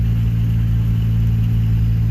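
Rebuilt 1991 Geo Metro engine idling steadily close by, a continuous low humming drone with no talk.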